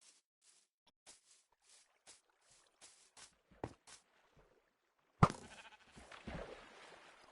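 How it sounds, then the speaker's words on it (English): Sheep bleating in the Minecraft video game, a few short faint calls spaced apart, followed by a louder burst of game sounds near the end. "I think we have another sheep right here coming around."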